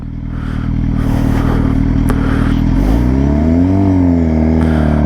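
Suzuki GSX-R sport motorcycle riding along a road, its engine a loud steady drone close to the microphone with wind rush, the pitch rising and swelling as the rider accelerates midway.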